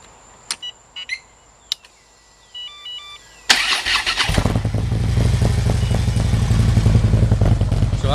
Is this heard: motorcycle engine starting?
yes